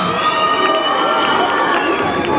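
A school audience at a Turkish Republic Day celebration gives a student a loud, dense wash of applause and crowd noise that runs unbroken from start to finish.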